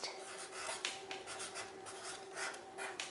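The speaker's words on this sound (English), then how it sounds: "Inside, I'm going to write August" A pen writes on paper while someone draws a dog-day sign, a steady close scratching and rubbing with short strokes and brief pauses, heard alone.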